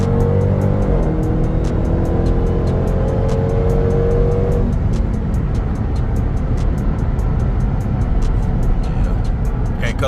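A Dodge Durango Hellcat in track mode accelerates hard on a night drive. The engine roar climbs steadily, drops at a quick upshift, then pulls again, loud and close inside the cabin with a voice speaking over it.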